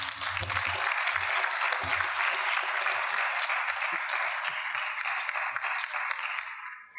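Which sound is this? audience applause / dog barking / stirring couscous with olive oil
audience applause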